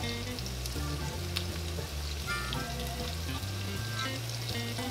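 Vegetables fry in a pan with chili powder, a close, continuous crackling sizzle with small pops and occasional stirring, steady throughout and without any talking.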